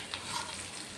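Ivy gourd (kovakkai) stir-fry sizzles in a pan, a close, steady crackling hiss with a brief stirring scrape, no voices.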